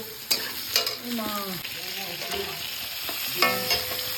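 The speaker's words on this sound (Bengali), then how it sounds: "ভাজাভাজি চলছে" Food frying and being stirred in a pan while catla fish and spinach are cooked at home, with steady sizzling and several sharp scraping clinks of a utensil against the pan.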